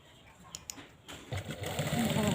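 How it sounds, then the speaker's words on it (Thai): A sewing machine stitching a jeans zipper starts after a second of quiet and then runs steadily, its close, continuous mechanical whir growing louder to the end. "เย็บตามรอยเดิมค่ะ"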